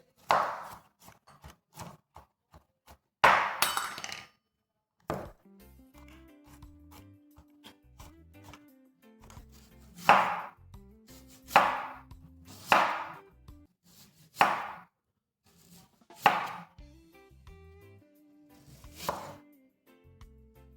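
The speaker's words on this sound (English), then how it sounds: "I'm chopping the garlic first." A knife chops garlic on a board in sharp, separate strokes, about ten of them spaced a second or two apart, with quiet pauses between.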